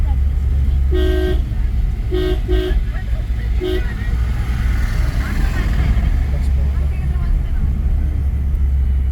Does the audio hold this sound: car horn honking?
yes